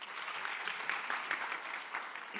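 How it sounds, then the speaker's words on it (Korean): A conference audience at a business platform event claps to welcome a speaker to the stage; the applause is faint, distant and even, a continuous wash of hands. "박수로 맞아주십시오."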